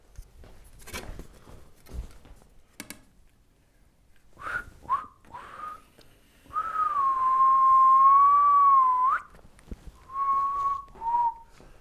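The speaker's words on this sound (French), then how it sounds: "Qui est-ce qui siffle ici?" In a classroom, someone whistles several times: short chirps first, then a long wavering sustained whistled note, followed by two shorter notes. Scattered background rustling and faint voices sit underneath.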